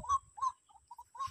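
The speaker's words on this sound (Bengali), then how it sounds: "কি পাখি ডাকছে" Bird in a tea garden calling several times in quick succession, short clear whistled notes close by in quiet surroundings.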